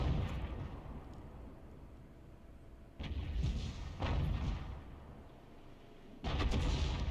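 Tank guns fire in a video game battle, including an M24E2 Super Chaffee, with three heavy booming shots spaced a few seconds apart over a steady rumbling background.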